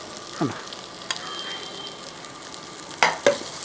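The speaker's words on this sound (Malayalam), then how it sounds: "മീൻ പൊള്ളിച്ചെടുക്കുന്ന ഒരു രീതിയിലാണ് ഞാനിപ്പോൾ ചെയ്തിരിക്കുന്നത്" Fish pan-roasting in the Kerala style, sizzling in a hot pan as a steady, close frying hiss, with a few sharp clinks and scrapes of a utensil against the pan.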